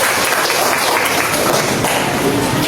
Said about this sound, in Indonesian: tepuk tangan buat Aisyah